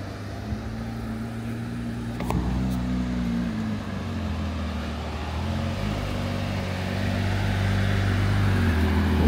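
A Porsche 992 GT3 RS approaches with a steady, loud engine rumble and road noise that slowly builds as it drives up, with no talking.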